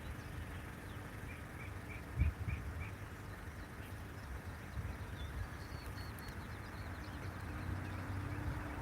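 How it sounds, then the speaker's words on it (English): Faint bird chirps repeat in short runs outdoors ahead of a storm in Virginia, set against a low, steady background rumble with a brief thump partway through. "right now the birds are chirping"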